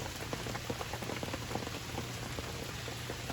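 Steady rain patters on a surface, a dense continuous hiss of drops with scattered individual taps, close and even throughout with no voices.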